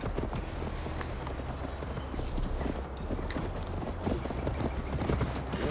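A horse gallops steadily in the video game Assassin's Creed Valhalla, a continuous rapid clip-clop of hooves on a dirt road with outdoor ambience, and no talking.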